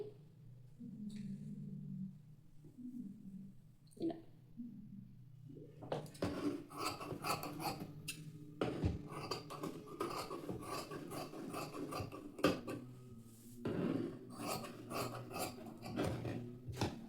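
Scissors cutting through blouse fabric for a boat-neck blouse, steady rasping snips and sliding blade scrapes close by, with softer handling sounds at first and then continuous cutting strokes.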